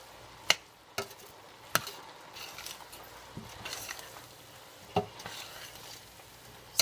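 Sugar is stirred into tomato chili in a pot, giving a quiet, soft scraping swirl punctuated by several sharp clicks of the spoon against the pot's side.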